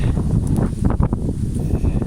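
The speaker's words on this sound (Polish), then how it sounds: "Ale dzisiaj wieje, ładna pogoda, tylko wiatrzysko takie jak nie wiem." Strong autumn wind blowing through a garden with fruit trees, a loud, continuous roar buffeting the microphone for a couple of seconds, no speech.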